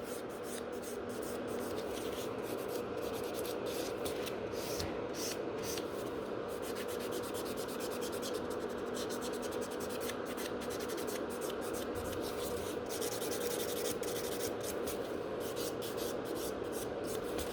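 Electric nail file buffing and blending acrylic nails around the cuticle area during a pink ombre manicure, a steady close whirring grind with scratchy rubbing texture running continuously without talk.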